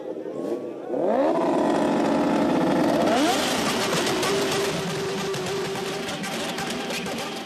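Modified, heavily tuned motorcycle engines rev loudly at a fan campsite during the French Grand Prix, rising in pitch through repeated throttle sweeps and then holding a steady roar, close and continuous.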